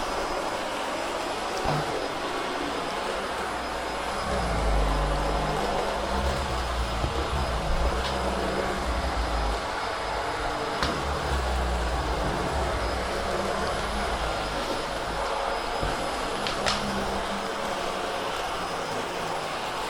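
A Hoover H Upright 500 Sensor Plus vacuum cleaner runs with a continuous loud motor whine and airflow roar, and a brushroll adds low rumbling surges as the vacuum is pushed back and forth.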